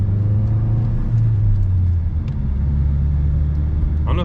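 A Ford Mustang EcoBoost with a 6-speed manual pulls away, its engine a steady low rumble with a gentle rise in revs and a slight dip in pitch partway through.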